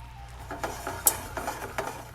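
Amber sugar syrup for poached pears simmers in a pan on low heat, a soft steady bubbling hiss with a few light stirring clinks, close and quiet with no talk.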